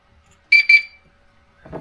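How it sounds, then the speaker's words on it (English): Two short, high electronic beeps in quick succession inside a BMW 2002, clear and close, followed by a brief soft rustle. "2 beeps."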